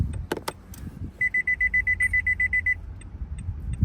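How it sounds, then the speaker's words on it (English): Rapid series of about a dozen short, evenly spaced electronic beeps confirming Nissan Altima key fob programming, preceded by a few sharp clicks and followed by faint isolated chirps. "This buzzer sound is going to seal the programming and tell you that everything is programmed."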